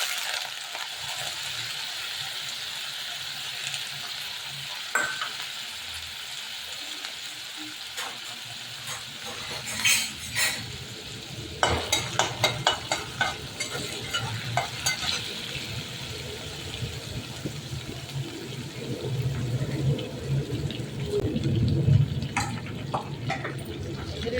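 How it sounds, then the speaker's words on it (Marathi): Moong dal with ground chili and garlic paste fries in hot oil for a dill greens dish, a continuous sizzle with scattered stirring scrapes and clinks close by, and no talking. "मिरची आणि लसणीची वाटून जरा फ्राय करून घेतली"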